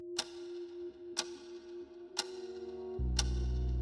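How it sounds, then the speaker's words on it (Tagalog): An old clock ticks steadily and faintly in a quiet room, four crisp evenly spaced ticks about a second apart, with a low hum rising near the end. "Tahimik, maliban sa mahinang tunog ng lumang orasan sa gilid."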